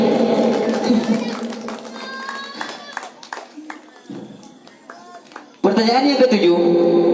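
Audience at a school quiz competition clap for a winning team, scattered claps mixed with children's voices and crowd noise, swelling louder near the end.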